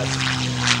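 A CAF P-51D Mustang warbird makes a low pass over the airfield at the Tuscaloosa Regional Air Show, its propeller engine droning steadily and loudly with a slight swell toward the end of the short burst.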